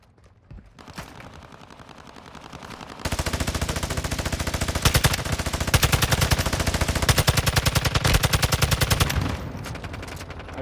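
Rapid automatic gunfire from a low-recoil weapon in Call of Duty: Modern Warfare II rattles out in long sustained bursts, loud and close, after a few quieter shots and ambient noise at the start.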